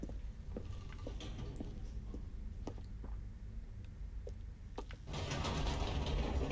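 An elevator in The Stanley Parable runs with a steady mechanical hum and scattered clicks and rattles, then swells into a louder, fuller whirring near the end.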